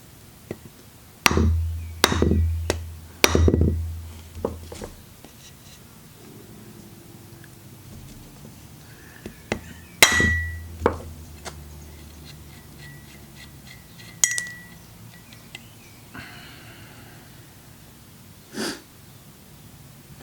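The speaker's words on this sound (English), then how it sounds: "I'm just gonna hit it with a hammer and drive it out that way." Several sharp metallic hammer blows on a nut driving out a stud during a Toyota Supra rear differential swap, a quick cluster near the start and a few more spaced out later, ringing briefly with quiet handling sounds between.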